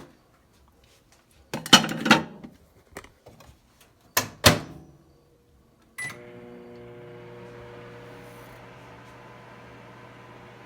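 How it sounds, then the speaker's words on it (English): A microwave oven at home is loaded and started: a few clattering knocks and a door shutting, then a beep and a steady low hum as it runs, close and quiet. "I'm going to put it in the microwave one more time on 30 seconds"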